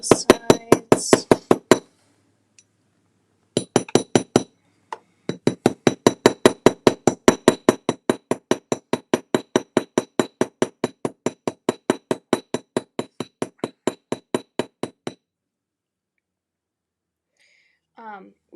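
A small hammer taps a rivet on a jewelry piece in a long run of rapid, evenly spaced, close metallic clinks, broken by a few short pauses and then stopping near the end.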